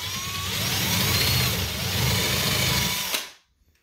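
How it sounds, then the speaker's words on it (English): A power drill countersinks a screw hole in a wooden cabinet face frame, running steadily and loud at close range for about three seconds before winding down and stopping. "countersink this just a little bit, I have a drill bit that's a tiny bit larger or about the same size as the head of the screw"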